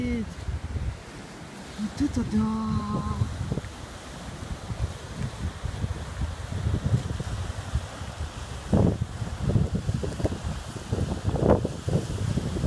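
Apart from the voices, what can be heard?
Atlantic Ocean waves and wind on the French coast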